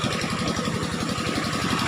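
A boat engine chugs steadily at a mid-pitched idle, with an even, continuous rhythm, moderately loud and alone without speech, out on rural water near rice fields.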